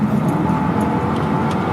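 A Mercedes CLK 55 with a non-supercharged V8, playing back from a video as a steady low engine drone with broadband road noise, loud and continuous, without voices.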